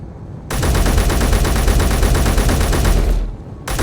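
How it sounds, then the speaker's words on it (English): Burst-fire gunshots ring out in a video game as a loud, dense rapid stream of shots that runs for roughly two and a half seconds before cutting off abruptly. "I don't like the burst fire."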